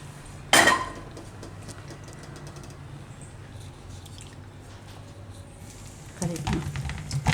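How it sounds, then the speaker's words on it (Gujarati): A sticky date mixture is scraped out of a pan into another vessel, with a sharp metal clank at the start, then faint scraping and wet squishing, and louder utensil contact near the end. "અને આને આપણે કાઢી લે હું બીજા વાસણમાં."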